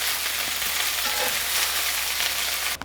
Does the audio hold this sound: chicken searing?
yes